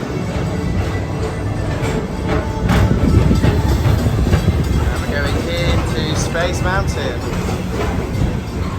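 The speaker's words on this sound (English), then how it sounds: "It's a train." A small People Mover train at Walt Disney World's Magic Kingdom rumbles past with rhythmic clatter, steady and fairly loud, while people talk over it in the background.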